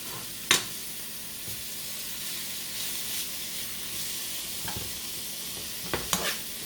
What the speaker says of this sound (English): So let that get good and hot and sauteed, all of that together.